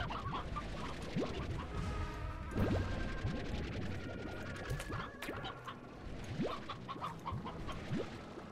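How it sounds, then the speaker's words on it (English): Briar Hens in the video game Slime Rancher, clucking and squawking repeatedly over a busy farmyard background, several birds calling at once at moderate volume. "You guys get the Briar Hens."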